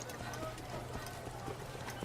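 Horse hooves clip-clop steadily in Assassin's Creed as a mount trots through a village, a quiet regular rhythm running under a faint voice and game ambience.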